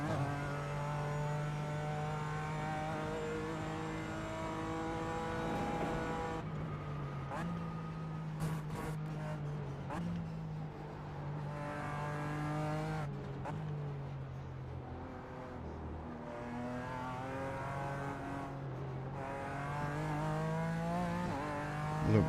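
GT4 race cars lap the Nürburgring in a racing video game, their engines wailing loudly and sweeping up and down through gear changes while a voice talks intermittently underneath.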